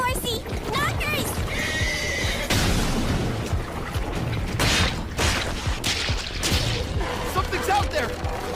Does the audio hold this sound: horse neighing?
yes